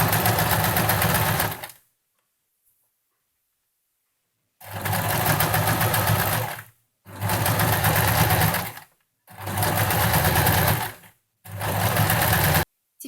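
A sewing machine stitches 1 cm from the edge of a baby blanket made of synthetic padding and cotton, running in four loud, close bursts of rapid steady stitching separated by silent pauses.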